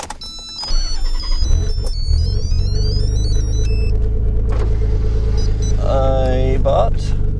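A Nissan 300ZX twin turbo starts and settles into a deep, steady idle close by, with electronic chimes at first and a person talking near the end.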